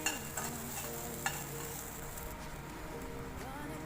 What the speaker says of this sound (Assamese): তেলখিনি যেতিয়া ভালকৈ গৰম হ'ব তেতিয়া গোটা জিৰা আধা চামুচ আৰু খুন্দি লোৱা আদা আৰু শুকান জলকীয়া এটা দি দিব